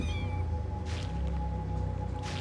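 Video game cat meows twice, short and clear, over a steady low electronic background hum with no talking.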